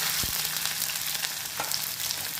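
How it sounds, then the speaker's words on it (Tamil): Onions frying in oil in a kadai, a steady, fairly loud sizzle that runs unbroken throughout with a couple of faint stirring scrapes and no voices. "கடாயில் எண்ணெய் விட்டு வெங்காயத்தை ஃப்ரை பண்ணி வைக்கலாம்."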